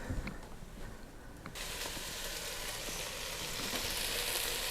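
Onions and peppers fry in a pan with a soft sizzle that swells after a moment into a steady, fairly quiet hiss.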